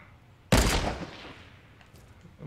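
A single loud gunshot in Fortnite played on Nintendo Switch cracks out sharply, then its echo trails off over a second or so against a quiet game background.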